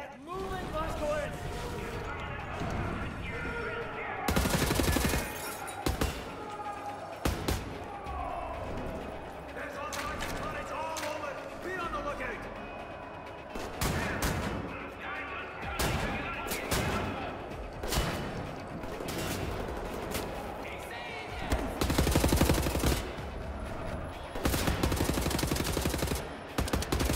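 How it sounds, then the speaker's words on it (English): Gunfire in the first-person shooter Wolfenstein: The New Order: repeated sharp bursts and single loud shots, some in rapid automatic runs, mixed with mechanical clanks and game noise, with someone talking over much of it. "Come on, stop shooting at me, you fool."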